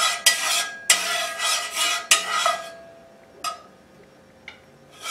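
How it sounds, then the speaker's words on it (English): Oil being spread around a cooking pan for Chinese fried rice: a few sharp scraping strokes of a utensil against the pan, close and separated by pauses, then lighter clinks fading out. "Let's go ahead and spread that oil around."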